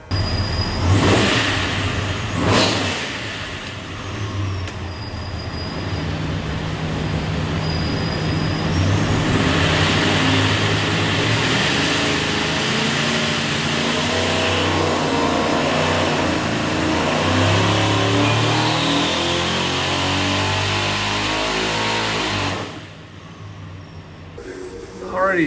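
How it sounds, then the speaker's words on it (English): Supercharged 427 Ford V8 with twin TorqStorm superchargers on pump gas, running a dyno pull for a '76 F250: loud sustained engine roar rising steadily in pitch as it revs up, then cutting off abruptly near the end. "Go in there and make a run, see what she does."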